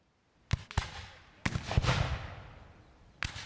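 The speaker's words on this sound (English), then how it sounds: "gunshots in the distance" Several sharp bangs ring out at a distance, a few in quick succession, then another after a pause, each echoing briefly.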